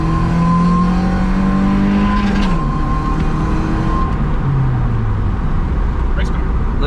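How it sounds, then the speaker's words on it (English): Race car engine revving hard on a wet track slick with burnout residue, loud and close with pitch sweeping down as it skids, while people talk over it. "Race car."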